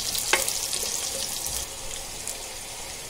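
Onions fry in a pan for fish curry, a close, continuous sizzle with occasional stirring clinks and no talking.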